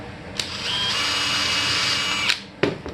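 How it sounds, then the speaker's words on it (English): A power drill whirs steadily for nearly two seconds, drilling holes partway into a CARF P-47 model aircraft part, bracketed by sharp clicks and a brief burst as it starts and stops. "And I don't drill all the way through because I don't want to blow out the back side."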